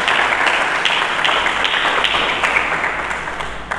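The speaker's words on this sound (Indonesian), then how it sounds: "Mari kita berikan tepuk tangan" A church congregation applauds together in a dense, continuous round of clapping that holds steady and then tapers slightly toward the end.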